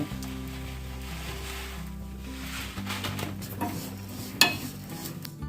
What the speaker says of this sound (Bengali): সামান্য ঘি দিয়ে আমি এই সিমুইটাকে ভাজছি